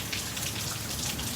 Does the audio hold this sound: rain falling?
yes